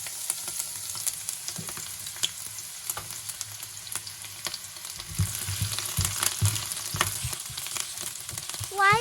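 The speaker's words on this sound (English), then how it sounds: "When the pan is heated high, add onion and green chili." Onion and green chili sizzle in a pan of oil heated high, a steady dense frying hiss with occasional stirring scrapes and clinks, close and moderately loud throughout with no talk.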